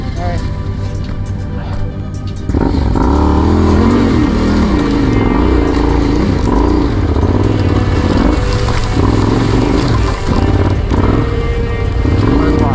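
A Yamaha Ténéré 700 motorcycle accelerating hard off-road in second gear, its loud, sustained engine roar close and continuous, with people talking over it.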